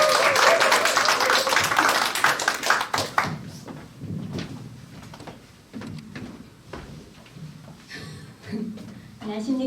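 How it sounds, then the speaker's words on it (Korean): Audience applause at a business meeting, loud dense clapping for about three seconds, then thinning to scattered claps and room noise with some talking. "감사의 박수로 같이 부탁드리겠습니다"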